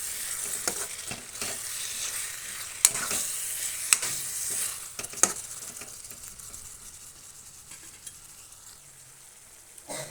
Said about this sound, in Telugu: దీంట్లో ఇప్పుడు కొత్తిమీర వేసుకొని కొంచెం కలుపుకుందాం